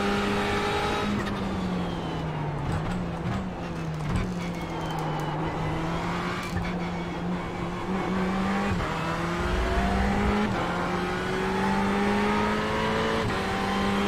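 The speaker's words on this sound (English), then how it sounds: "Just listen to the front wheels going there." A Ferrari 488 GT3 Cup car in iRacing at Suzuka, understeering: steady engine drone with shifting pitch under a faint scrubbing tire squeal from the front wheels, lasting throughout.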